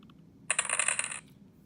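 Dice rolling in a Farkle computer game, a brief burst of bright rattling clicks lasting under a second, clear and close with no talk.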